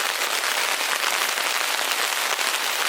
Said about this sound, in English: Just listen to the rain